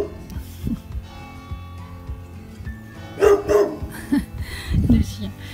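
A dog barks outdoors in a few short, sharp bursts, some close and loud, mixed with softer yips while a person talks nearby.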